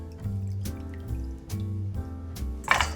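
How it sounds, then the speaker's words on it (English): Cut potatoes are rinsed under running water in a series of short, rhythmic pours and splashes, close and moderately loud, with a brighter splash near the end. "Just kind of rinse them off."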